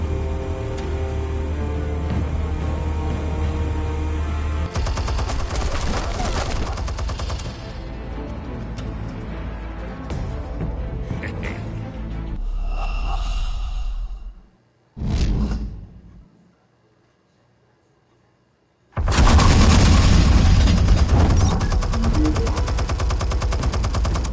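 Gunfire and explosions from the Batman: The Telltale Series video game come as loud, rapid bursts. A sharp blast follows, then a long silent gap before heavy firing resumes.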